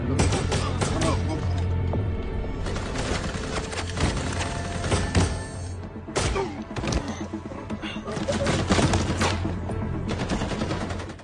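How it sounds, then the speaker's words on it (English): Sustained gunfire rings out in a chaotic shootout, dense overlapping shots and bursts filling the whole stretch at high, steady loudness with brief lulls between volleys. "Hearing the gunshots, Victor rushed to call for more reinforcemen"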